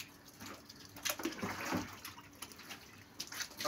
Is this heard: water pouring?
yes